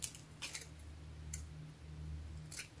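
Scissors cut a piece from a potato sack string in a junk journal craft setting, with a few sharp snips close by over a quiet low hum and no talking.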